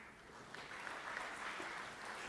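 An audience claps at a motivational speech, a soft, distant wash of applause that holds steady for a couple of seconds.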